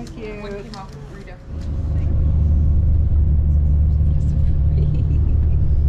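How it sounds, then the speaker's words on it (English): A bus ride from the airport to the hotel in Cuba: a brief voice at the start, then a low, steady engine rumble that rises and holds loud and close inside the vehicle. "Bus ride from the airport to the hotel."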